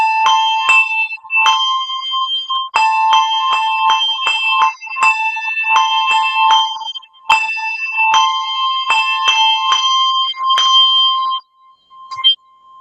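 A small bell struck hard and with heavy accents, giving a quick series of bright, ringing metallic hits in uneven bursts with short pauses between them, close and clear with nothing else heard.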